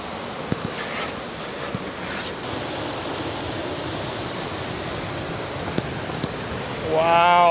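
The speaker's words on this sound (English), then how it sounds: "Oh, but here's the beach." Steady broadband roar of surf and wind on open water while windsurfing near a beach with big waves, constant and loud throughout, with a brief rising whine near the end.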